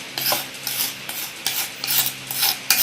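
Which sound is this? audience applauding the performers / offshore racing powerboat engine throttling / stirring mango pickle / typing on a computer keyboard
stirring mango pickle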